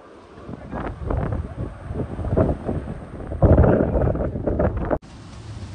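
Strong wind gusts roar across the microphone near the Ambaji temple high on Girnar mountain, loud and continuous buffeting with faint voices underneath, then cutting abruptly near the end.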